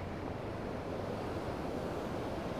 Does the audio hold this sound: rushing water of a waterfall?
yes